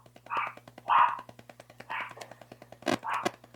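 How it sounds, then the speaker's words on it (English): A neighbor's dog barks in several short bursts nearby, separated by brief pauses, set against a steady low background hum. "My neighbor's dog is having a moment"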